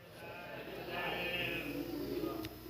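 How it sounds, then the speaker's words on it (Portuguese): A sheep bleats through a low, steady wash of background sound, its cries rising midway and continuing to the end, moderately near with no clear talk over it. "Jesus escuta o grito da ovelha"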